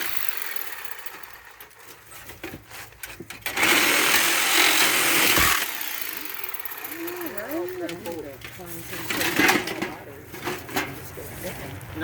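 A power tool cuts apart the aluminum and copper coil of a scrapped AC unit. It makes a loud, harsh grinding burst lasting a couple of seconds, with clanks and scraping of metal before and after, and people talk nearby.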